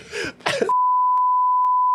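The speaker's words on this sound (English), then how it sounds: "what loud beeping sound I have edited in over this whole conversation later" A loud, steady censor beep is edited in, cutting off a brief burst of speech and then holding as a single sustained tone to the end.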